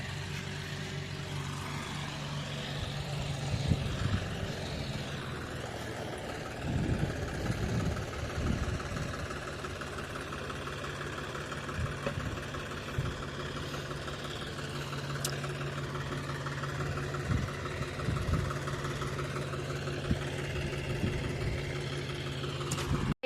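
A farm tractor engine idles with a steady low rumble and constant hum, swelling briefly louder a few times partway through, with no voices.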